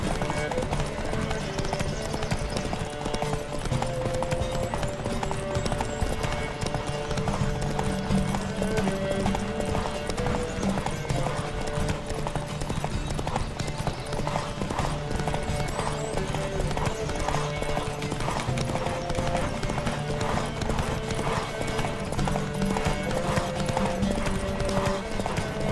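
Steady, rapid hoofbeats from a galloping horse in The Witcher 3: Wild Hunt during a horse race, running continuously and loudly throughout, mixed with game music and occasional voices.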